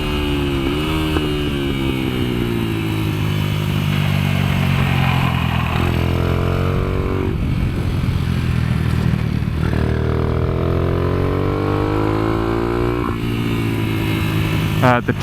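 A highly modified Kayo MR125 motorcycle revs and accelerates around a kart track, its engine pitch climbing and dropping through repeated gear changes, loud and near, with talk over it.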